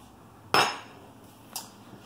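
A big stainless steel serving spoon from a Villeroy & Boch New Wave flatware set gives two separate metallic clinks, a sharp one followed by a fainter one, close up against a quiet room.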